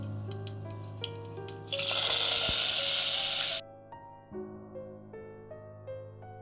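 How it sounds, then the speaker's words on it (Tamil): Curry leaves, mustard seeds and cumin hit hot oil for tomato rasam, a loud sizzling hiss that bursts up for about two seconds and then cuts off, over soft background music. "இதில் தாளிக்கிறதுக்காக கொஞ்சமாக கருவேப்பிலை, 1 ஸ்பூன் கடுகு, 1 ஸ்பூன் சீரகம் போட்டு இதில் தாளிக்க போகிறோம்."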